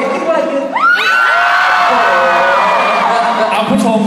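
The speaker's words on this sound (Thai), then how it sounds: "ถ้ารักพวกเรามากมากเลยนะขอเสียงกรี๊ดได้น้อยแบบโผล่เลยดิ" A concert audience screams loudly and continuously, high-pitched shrieks and whoops swelling together into one sustained roar from a packed crowd.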